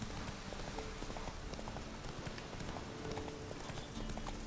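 Steady horse hooves clip-clop in a quick even rhythm in the video game The Witcher 3, under a dense wash of noise, like rain or a busy outdoor background.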